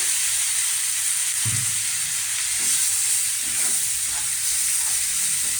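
Water poured into a hot pan of semolina and vermicelli, a continuous close sizzle and hiss with a few soft stirring knocks, and no one speaking.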